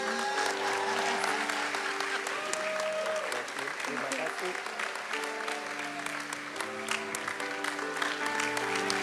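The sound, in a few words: applause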